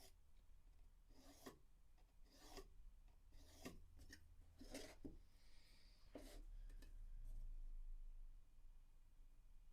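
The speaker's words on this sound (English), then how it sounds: "Let's scribe a line down the middle there." Scraping strokes of a scribe marking a line across an acoustic guitar body, about seven short, close rasps spaced roughly a second apart, with a low hum underneath.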